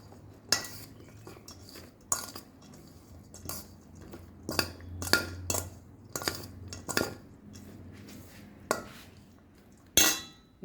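A utensil clinks and scrapes against a bowl while chicken salad without mayo is tossed, a dozen or so sharp irregular knocks spaced over quiet gaps, close and clear.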